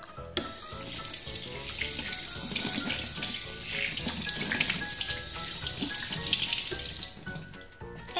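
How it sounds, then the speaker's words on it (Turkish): Running tap water splashes steadily into a sink as soapy hands are rinsed, a close, continuous hiss with faint shifts as the hands move, stopping abruptly near the end; no one speaks. "Sabunladıktan sonra da iyice duruluyoruz."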